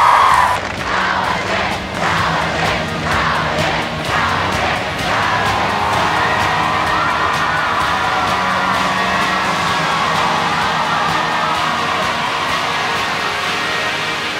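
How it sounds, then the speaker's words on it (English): A large crowd at the Power Shift 2011 renewable energy rally roars and screams in a loud, sustained wave of cheering that holds steady without dying away. "I want you to scream yes if you're for renewable energy."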